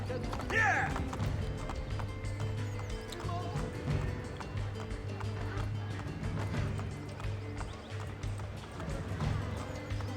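Horse hooves galloping in Assassin's Creed Brotherhood, a continuous rhythmic clatter with a brief whinny near the start, set over a game background mix.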